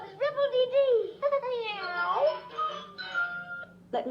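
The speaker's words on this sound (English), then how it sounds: "He had all kinds of meows, but he also had a secret meow, which only Dick Whittington knew." A cat meows repeatedly in a told story, a series of varied, pitch-sliding meows and drawn-out calls close and clear, over a low steady hum.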